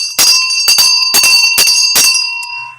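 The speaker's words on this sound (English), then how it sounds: "Yes, ring the bell." A bell rung several times in a radio studio during a talk show, about five bright metallic strikes in quick succession with sustained ringing overtones, loud and close, no talk over it.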